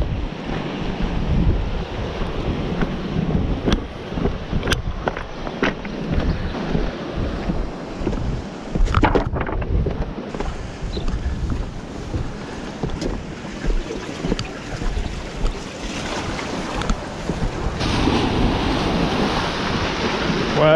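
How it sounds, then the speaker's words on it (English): Strong gusting wind buffets the microphone over the continuous wash and crash of waves breaking on a rocky UK shore, loud and unbroken throughout. "Well, it's a windy and wild one today."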